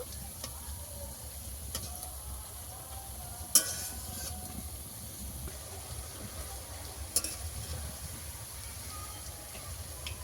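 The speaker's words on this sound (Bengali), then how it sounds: "বড়াগুলো একদম আমি লাল লাল করে ভেজে নেব।" Pumpkin-flower fritters deep-fry with a soft, steady bubbling hiss, fairly faint, broken by a couple of sharp clinks.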